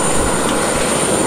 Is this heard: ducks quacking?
no